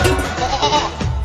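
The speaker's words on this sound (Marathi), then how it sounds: "ओ बकरा ओ बकरा" A goat gives a short, loud bleat close by in a rural farmyard setting, with a wavering cry lasting about a second against some background noise.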